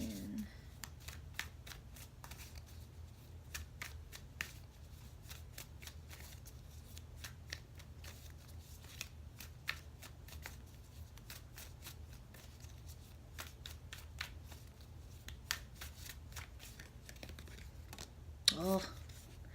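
Tarot cards are shuffled by hand, a quiet, continuous run of rapid riffling flicks and snaps with scattered sharper cracks, heard alone and close up, with one louder knock near the end.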